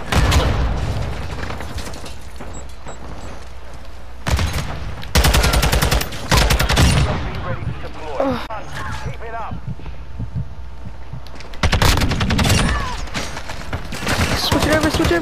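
Shotgun blasts in Call of Duty: Modern Warfare II multiplayer, with several loud close bursts separated by pauses and a player talking throughout between shots.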